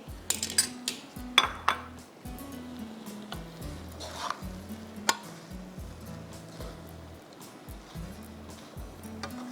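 Schezwan fried noodles with chicken tikka chunks and green onion are tossed in a pan, with a series of sharp metallic scrapes and clinks of utensil against metal and a low stove hum, moderately close.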